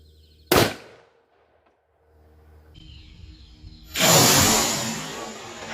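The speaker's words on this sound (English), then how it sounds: "I'm hoping to place 2 shots in that ballistics gel side by side" A single sharp gunshot fired into ballistics gel outdoors, one loud crack followed by quiet, then a rising rush of noise near the end.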